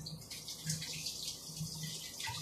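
Tap water runs steadily into a sink as freshly peeled vegetables for a salad are rinsed, a soft continuous splashing with faint handling sounds, fairly quiet and close.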